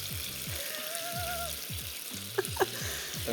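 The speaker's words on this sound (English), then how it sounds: "Sizzling beef at home." Beef sizzles loudly in a hot stir-fry pan at home, a continuous crackling hiss under a faint background musical drone, with a couple of sharp pops near the end.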